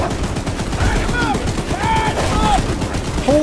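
Rapid gunfire aimed at Charles, the monstrous train in the Choo Choo Charles game, loud close bursts of repeated shots running throughout while excited voices shout over them.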